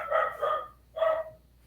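A dog gives two short, fairly loud barks with a brief pause between them, with no talking.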